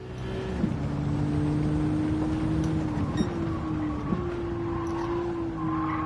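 A race car engine from the Gran Turismo 7 video game drones loud and steady at Tsukuba circuit, its pitch stepping through shifts several times over a bed of road and wind noise, with no talk.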